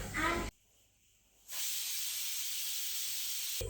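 A pressure cooker on a home stove releases a sustained steady hiss of steam after a short quiet gap, loud and continuous, following a brief burst of noise.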